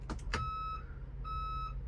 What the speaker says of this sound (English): It will also have the backup beeping.